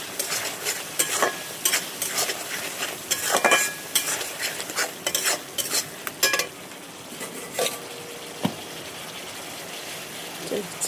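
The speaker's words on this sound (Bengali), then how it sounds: "রসুন লঙ্কা গুঁড়ো হলুদ গুঁড়ো দিয়ে দিয়েছি, দিয়ে ভালো করে কষছি।" Garlic, chili and turmeric powder sizzle in a pan for chicken curry, with a spoon scraping and stirring in bursts over a steady frying hiss, louder at first, then calmer.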